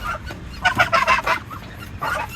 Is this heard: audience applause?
no